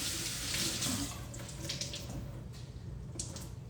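Tap water runs steadily into a sink while a cloth soup bag is rinsed under it, a close continuous splashing rush with small shifts as the cloth moves through the stream.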